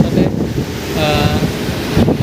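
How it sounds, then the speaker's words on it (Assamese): Strong storm wind gusts at Cherrapunji, roaring and buffeting loudly and close, with a voice audible beneath the rush. "ইমান জোৰকৈ ধুমুহা বতাহ দিছে ইয়াতে"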